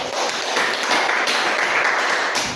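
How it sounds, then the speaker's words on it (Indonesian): An audience at a communication training session breaks into applause, many hands clapping in a continuous, fairly loud wash that holds steady throughout. "Tepuk tangan dulu Pak David."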